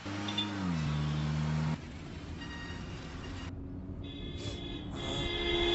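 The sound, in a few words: moving vehicle driving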